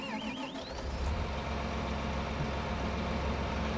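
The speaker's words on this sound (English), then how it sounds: "Very nice John Deere 8R with the tracks on it." Engine of a John Deere 8R tracked tractor in Farming Simulator 25 hums at a steady idle, a low continuous drone with a brief rising whine early on, no voices over it.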